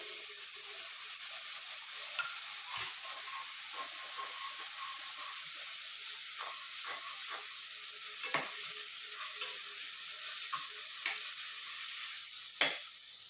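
Ginger garlic paste and ground onion sauté in a pan with a constant soft hiss and sizzle. Occasional light scrapes of a stirring spoon come through, close but quiet, with no talk.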